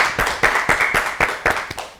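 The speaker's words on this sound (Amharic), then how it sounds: "እሺ አጨብጭቡላት፣ አጨብጭቡላት" A studio audience on an Ethiopian children's quiz show claps for a contestant, a short burst of several sharp, uneven claps in a loose rhythm, close and fairly loud.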